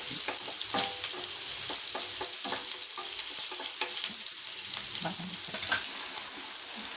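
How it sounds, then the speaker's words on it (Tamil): Onions frying in a pan for a ridge gourd and moong dal kootu, an even crackling sizzle with light intermittent clicks of a spoon stirring through it from start to finish. "நல்லா இந்த அளவுக்கு வெங்காயம் நல்லா வதங்கிடணும்"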